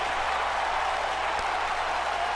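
Crowd noise at a backyard wrestling match, a steady loud roar of cheering and applause with no clear breaks, plus a brief thump near the middle.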